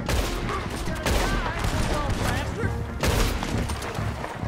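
Rapid bursts of Red Dead Redemption 2 gunfire crackle continuously, with heavier blasts around one and three seconds, while a voice talks in Dutch over the shooting.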